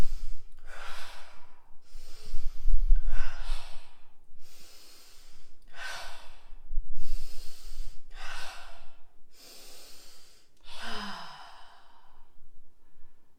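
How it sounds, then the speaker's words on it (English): Slow, deep lower-body breathing exercise, a series of about seven long, loud breaths with airy inhales and exhales at an even rhythm, heard alone without speech. "we go into the 5 lower body breaths"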